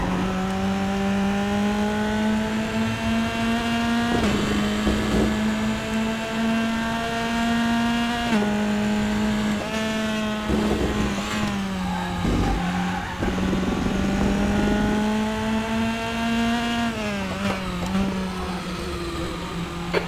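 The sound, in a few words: Formula 3 race car engine in 4th gear, Raceroom video game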